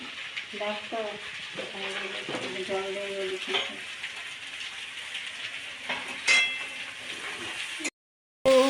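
Mutton pieces go one by one into a hot pan and fry with a steady hiss, broken by occasional clinks of utensils; a person speaks over it early on, and the sound cuts out sharply near the end.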